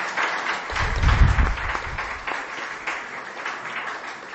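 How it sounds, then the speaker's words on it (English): An audience at a history talk applauds with a steady wash of many hands clapping throughout, fairly close and full, with a low thump or handling bump early on and no talk over it. "Please give him a round of applause."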